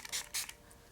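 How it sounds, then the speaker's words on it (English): Two quick, soft hissing spritzes of Too Faced Hangover face mist, fine and close, each lasting a fraction of a second with a brief pause between, otherwise quiet. "I'm just going to spritz this everywhere and just really hydrate my skin"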